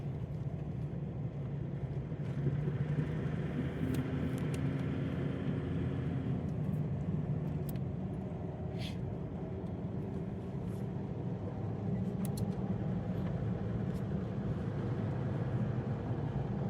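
Car cruising on an open winter mountain road near Balakot, a steady low engine and tyre rumble holding evenly throughout, close and continuous, with no one talking.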